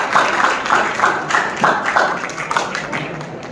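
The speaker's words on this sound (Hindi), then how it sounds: "तालियों के साथ साथियों।" An audience at a public gathering in honour of Savitribai Phule and Fatima Sheikh claps together, a moderately loud patter of many hands that rises and fades in uneven bursts.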